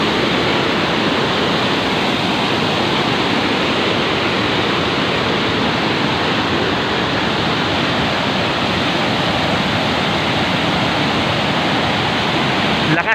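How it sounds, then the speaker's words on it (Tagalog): Floodwater from monsoon rains roars over a dam in Pangasinan, a steady, loud broadband rush that stays constant and unbroken, with no voices. "Lakas ng ragasan ng tubig."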